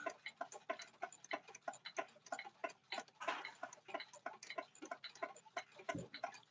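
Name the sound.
Seth Thomas Sonora grandfather clock ticking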